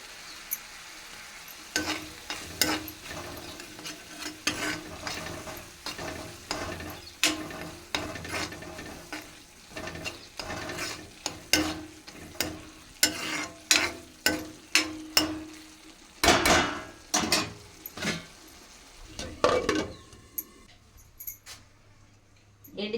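A spoon stirs fish and okra frying in oil in a pan, with repeated sharp scraping clacks over a continuous sizzle, close and moderately loud, growing more rapid toward the end.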